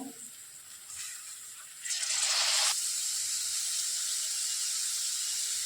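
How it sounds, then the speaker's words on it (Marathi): Finely chopped onion and tomato hit a hot pan of fried spice paste and curry leaves for mixed moong and masoor dal amti, a broad steady sizzle that swells sharply midway and then holds, no talking. "जो बारीक कापून आपण कांदा घेतलाय तो यात टाकतोय"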